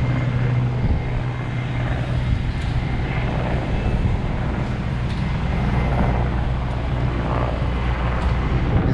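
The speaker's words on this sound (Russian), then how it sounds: "Тут вертолеты и самолеты, смотри." Aircraft engine drone near an airport in Vietnam, where a helicopter and an airplane fly past, heard from a rooftop as a steady, loud, continuous roar that never lets up.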